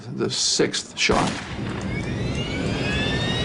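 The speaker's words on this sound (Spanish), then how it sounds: "Y entonces oímos cerrarse de nuevo la puerta de la cabina y otro disparo final, el 6º." A single sharp gunshot cracks through a muffled, noisy cockpit voice recording of PSA Flight 1771, 1987, followed by a rumbling, hissing background.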